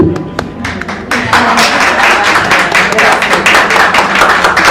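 Audience applause with scattered claps building into a sustained, dense round of clapping at a women's forum on Freemasonry in Venezuela, loud and continuous after the first second.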